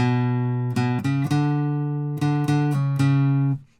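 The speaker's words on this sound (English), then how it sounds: "play the main riff on the acoustic" Acoustic guitar plays a main riff, a few sustained, ringing plucked notes with rhythmic repeated attacks, close and clear with no talking.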